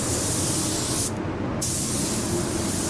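A spray gun lays paint onto a car bumper in winter, giving a loud, steady close hiss that cuts out briefly midway and then resumes.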